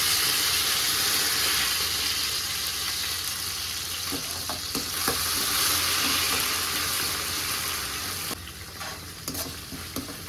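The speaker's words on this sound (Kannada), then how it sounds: "ಈಗ ನಾನು ಕೊತ್ತಂಬರಿ ಮತ್ತು ಪುದೀನಾನ ಆ್ಯಡ್ ಮಾಡ್ಕೊತಾ ಇದ್ದೀನಿ." Coriander and mint frying in a pan with green chillies for a fenugreek chicken fry, a steady loud sizzle with scattered clicks of stirring near the end.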